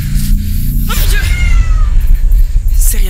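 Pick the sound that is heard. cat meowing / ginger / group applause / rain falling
cat meowing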